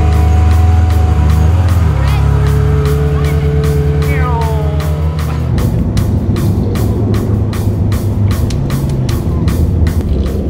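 A car pulls away from a retail park car park among a group of supercars including an Audi R8 V10 and Aston Martin, its engine note rising and shifting, with a rapid rhythmic ticking and rumble as it gets moving.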